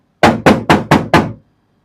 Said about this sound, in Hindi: ये दरवाजा खटक रहा है